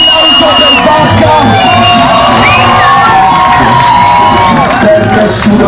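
A live concert crowd at a rap show roars with cheers, whoops and shouts for the performer, loud and continuous throughout, dense with overlapping voices.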